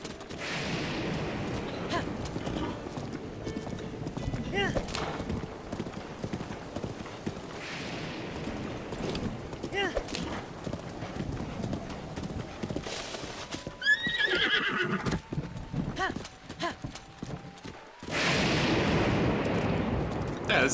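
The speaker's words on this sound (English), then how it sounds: "I have a feeling riding my horse there would save time" Horse hooves clip-clopping at a gallop in The Legend of Zelda: Breath of the Wild, with whinnies and neighs over rough game ambience, a burst of bangs midway and a loud surge near the end.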